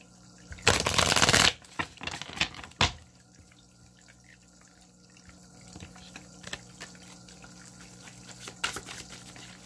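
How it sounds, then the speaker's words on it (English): A deck of cards is riffled in one crisp burst, followed by a few lighter card taps and shuffles in a quiet room. "Let me just shuffle this deck"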